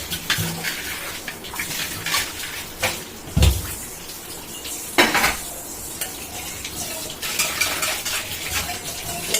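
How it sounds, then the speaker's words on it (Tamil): Dishes and pots being washed in a kitchen sink: water runs while metal pots and utensils clink and scrape, with occasional louder knocks, close and continuous. "அப்படியே பாத்திரத்தை முதல்ல கழுவி எடுத்துருவோம்"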